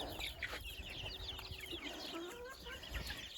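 Chickens, including a young Marans cockerel, cluck and chatter nearby, several birds calling in quick irregular bursts over a faint background hum.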